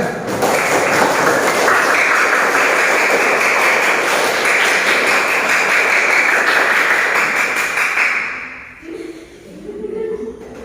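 A roomful of people claps steadily for the winners of a children's contest, a dense unbroken patter that fades out near the end as a voice begins speaking.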